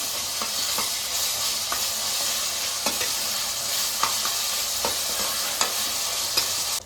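Ginger garlic paste and curry leaves fry in hot oil in a steady, close sizzle, with a spoon scraping and stirring the pan at irregular intervals throughout.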